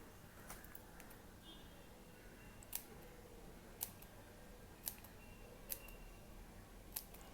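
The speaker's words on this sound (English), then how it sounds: "Now take the scissors" Scissors snipping small pieces of satin cloth for handmade baby's breath flowers, five sharp, quiet clicks spaced about a second apart over a faint background hiss.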